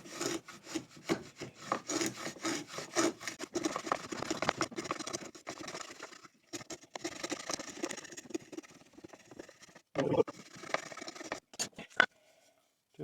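Old Stanley router plane cutting a wood groove while making a sharpening stone box, repeated rasping scrapes in short strokes with pauses, fairly quiet and close.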